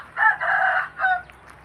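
A young rooster crows once at close range, loud and clear, in a short, broken call that fades out, with nothing else around it.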